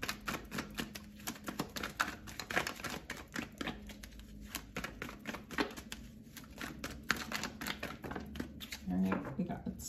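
Tarot cards are shuffled in a fast, crisp run of riffling clicks and soft slaps, close and fairly faint, with a voice speaking intermittently over them.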